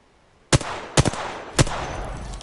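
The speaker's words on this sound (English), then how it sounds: "Opening fire on the enemy." Three sharp gunshots from Apex Legends gameplay crack out at uneven intervals, each a loud, close, abrupt burst with a short decaying tail, over low steady background noise.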